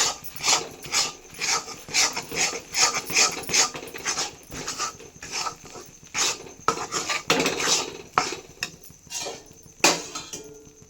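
A spoon scrapes and clinks against a kadhai as Mysore pak mixture is stirred while hot oil is added, giving busy irregular metallic strokes close by with no voices.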